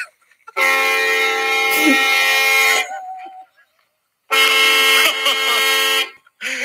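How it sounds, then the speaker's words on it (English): Two long, loud blasts of a deep, brassy 1959 Cadillac car horn separated by a pause, with a voice briefly audible between them. "Go ahead, hit the horn."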